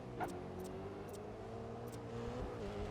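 Honda car engine in the racing game GRID 2 holding a steady mid-pitched drone, rising slightly near the end, with a few faint clicks and bumps and no talking over it.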